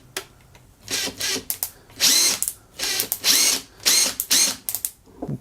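Makita cordless drill running in short repeated bursts, about eight or nine spins of a second or less each, whirring loudly and close with brief pauses between, no talk.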